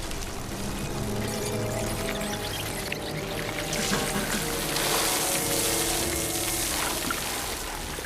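Hot water is poured onto ants in a film scene, a steady rushing, gushing pour that continues throughout and swells slightly midway.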